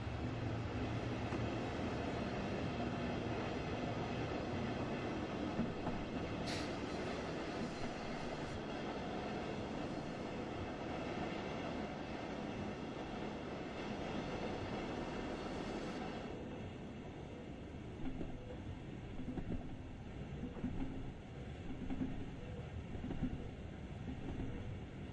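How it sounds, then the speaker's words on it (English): A train in Train Sim World rolls along with a steady, dense rumble and rhythmic wheel clatter on the rails. The noise stays loud and continuous, with a brief hiss and a shift in tone partway through. "the train's actually moving"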